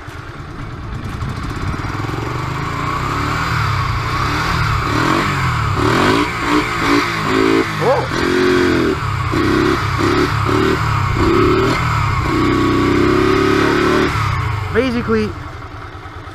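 A Honda Shadow motorcycle engine runs roughly, loud and close, with uneven, sputtering revs and lurching changes before it dies near the end; someone speaks briefly over it.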